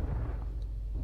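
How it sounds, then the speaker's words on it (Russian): Explosions in the battle game Totally Accurate Battle Simulator roll out as a deep, sustained low-end boom with a faint crackle, loud and continuous for about a second. "Смотри, как все взрывается."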